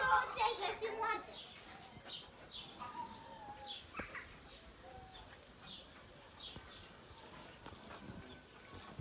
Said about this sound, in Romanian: Porumbei sunt aici.